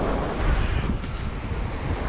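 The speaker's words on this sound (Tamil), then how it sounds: "கடல் இறைச்சல் சத்தத்தை பாருங்கள்" Sea surf at a beach in Mullaitivu, Sri Lanka, a steady loud broadband roar of breaking waves mixed with heavy wind buffeting the microphone, continuous throughout with no voices.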